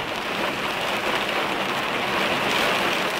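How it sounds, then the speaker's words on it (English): Pouring rain falls in a dense, loud, unbroken hiss of drops hitting surfaces close by, steady throughout with no pauses. No voices are heard. "it's pouring rain here today"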